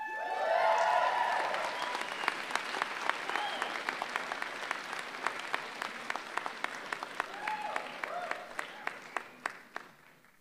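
An audience at a medical school convocation applauds, starting as a dense loud wash with a few cheers, then thinning into scattered individual claps that slowly taper off.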